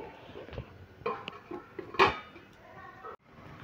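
A metal lid clanks onto a cooking pot on the stove in a home kitchen, with a few light metallic knocks and one sharper clatter, close and fairly quiet.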